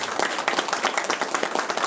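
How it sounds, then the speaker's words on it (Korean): Brief, dense burst of applause from people at an alumni gathering of school classmates welcoming a guest, close and continuous clapping. "박수로 환영해 주시기 바랍니다"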